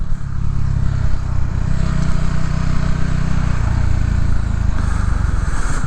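Motorcycle cruising through Chicago city streets, heading east on Wrightwood toward Logan Square; a loud, steady engine drone with rumbling low tones close up, holding level under wind noise the whole way.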